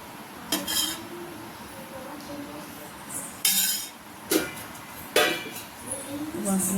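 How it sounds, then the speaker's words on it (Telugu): Ghee added to a pan for bread rasmalai, with sharp metallic clinks of a spoon against the pan and soft stirring scrapes in irregular bursts, close and fairly clear, with a voice speaking in between. "లైట్గా నెయ్యి వేయండి. ఇగోండి నెయ్యి వేసుకొని"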